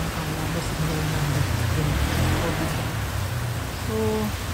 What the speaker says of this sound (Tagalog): Ay, lakas ng ulan guys.